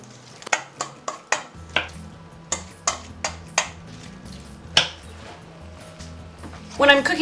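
Brussels sprouts dropped into a pan of hot olive oil, a run of sharp, close clatters and clinks at an uneven pace with a faint sizzle underneath, no talk over it.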